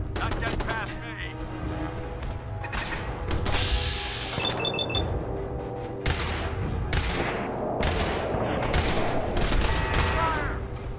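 Automated turret gunfire in the video game Fallout 4, rapid continuous bursts of shots with mechanical clatter and beeps layered over game music and combat noise, sustained throughout at steady loudness.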